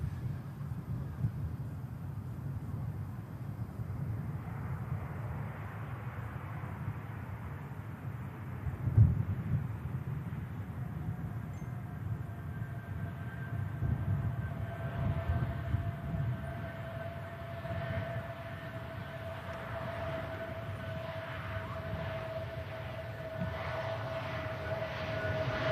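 An airliner arriving from Munich touches down at Manchester Airport, a steady broad engine roar at a distance holding through the whole stretch, with a faint tonal whine rising above it partway through.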